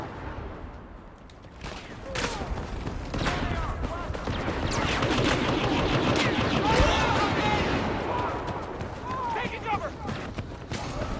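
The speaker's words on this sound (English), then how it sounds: "That's a heavy gun." Heavy gun fire in Star Wars Battlefront, dense rapid bursts of shots layered with battle noise throughout, loud and sustained, with players talking over the combat.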